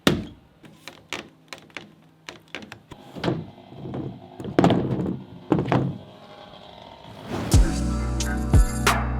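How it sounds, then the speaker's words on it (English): Banging a shim into place on a deck build, a series of irregular sharp wooden knocks and thuds, some close and loud, with heavier low thumps near the end. "Bang the shim in? Yeah, if I need it higher."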